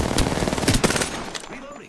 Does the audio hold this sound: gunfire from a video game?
yes